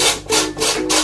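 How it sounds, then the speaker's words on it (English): Lime zest scraped across a kitchen grater for a coconut cheesecake garnish, close and loud, four rhythmic rasping strokes in quick succession. "I'm going to grate a little bit of lemon on"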